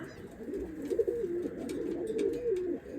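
Pigeons in a coop give soft, rolling coos, two drawn-out calls one after the other, close by over a faint background hum.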